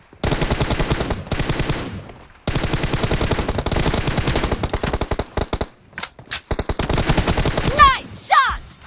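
Rapid sustained automatic gunfire in a shooting video game, long close bursts with brief gaps, followed by scattered single shots and sharp effects.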